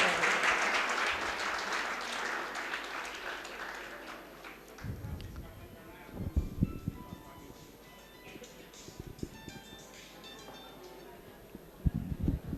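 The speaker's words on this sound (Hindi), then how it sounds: "जोरदार तालियों के द्वारा स्वागत है" An audience at a Vedic mantra recitation competition welcomes the chief guest with loud, dense applause that gradually thins and fades over about four seconds, followed by scattered taps and quieter room noise.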